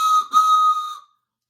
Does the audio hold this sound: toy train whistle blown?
yes